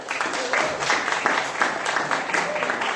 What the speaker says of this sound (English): Give them a round of applause for taking this